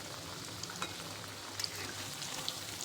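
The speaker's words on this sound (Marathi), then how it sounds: "असे छान मीडियम फ्लेमवरती तळून घ्यायचे" Dal vada snacks deep-frying in oil over a medium flame, giving a steady, soft bubbling sizzle with faint scattered crackles and pops throughout.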